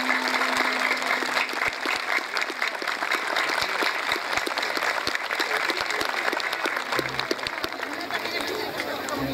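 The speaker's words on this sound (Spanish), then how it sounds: "te mandamos un fuerte aplauso." An audience at an orchestra concert applauds for a performer named Antonio, the steady clapping lasting throughout at moderate level with crowd murmur and scattered louder claps mixed in.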